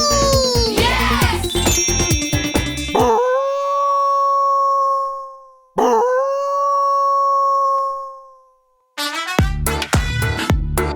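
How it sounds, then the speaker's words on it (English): A wolf howl from a children's wild-animal toy segment, with long, sustained howls that rise and then fall. They come after a busy burst of jingling music and are separated by short silences before a final noisy stretch. "Let's see what the wolf says. The wolf goes howl, howl."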